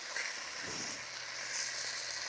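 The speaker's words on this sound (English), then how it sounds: "While we let bacon sizzle away" Steady crackling sizzle of bacon frying in a pan, a continuous bright hiss heard up close with no talking.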